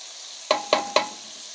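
Ground spices go into a sizzling pot of beef yakhni pulao over a constant close hiss, marked by three sharp metallic clanks of a spoon against the pot in quick succession, with no voices.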